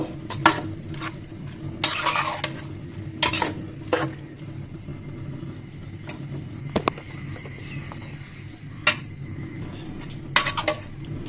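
Malabar spinach with lentils is stirred in a pot on a stove, a utensil knocking and scraping the metal in repeated sharp clinks and clatters, close and fairly loud with no talking.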